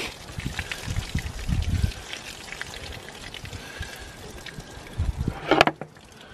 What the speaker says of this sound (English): let's pour it out in some light here